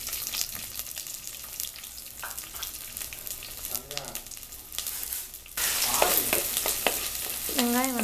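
Steady loud sizzling of shallots frying in hot oil for sambar, growing louder partway through, with faint voices in the background.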